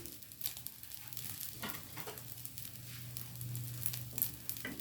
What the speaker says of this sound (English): you do want your rice to fry